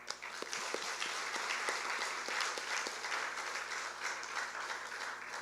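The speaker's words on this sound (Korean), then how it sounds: "이 시간 다 같이 영광의 박수를 하나님께 돌립시다." A church congregation at a pastor's installation thanksgiving service claps together in a sustained, moderately distant round of applause that holds evenly for several seconds.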